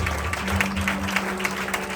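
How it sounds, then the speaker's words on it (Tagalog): A church congregation in Muntinlupa claps in worship, a brief burst of steady, dense applause with a low sustained tone underneath. "Palakpak po para sa ating Panginoon"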